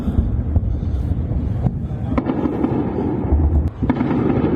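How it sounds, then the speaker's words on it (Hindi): Repeated explosions from an attack in western Iran boom and echo across the open sky, heavy low rumbles rolling one after another with a few sharper cracks, under steady wind noise. "देखिए कैसे आसमान में लगातार आपको वो धमाकों की गूंज"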